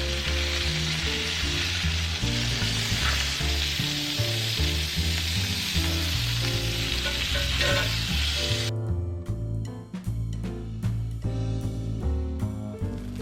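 A grilled cheese sandwich fries in a pan with a steady, close sizzle, while music plays underneath throughout and the sizzle thins out partway through.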